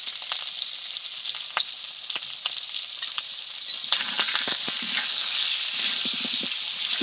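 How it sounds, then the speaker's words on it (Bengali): Potato and papaya pieces frying slowly in oil, giving a steady close sizzle with scattered pops and crackles, with no talk over it. "ধিমে আগে আস্তে আস্তে ভেজে নেবো, যেন ভিতরটা সেদ্ধ, আলু পেঁপের ভিতরটা সেদ্ধ হয়ে যায়"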